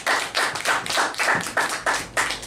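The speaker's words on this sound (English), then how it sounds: "Give her an applause." Sparse clapping at an open mic night, a handful of hands beating in an uneven rhythm of separate claps, close and fairly loud, with no talking.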